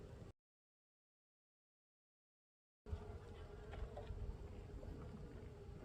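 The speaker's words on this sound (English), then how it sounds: "Bees look healthy." Honey bees buzzing at a hive opened for a December winter check, a steady low hum close by after a brief silent gap, with some wind noise.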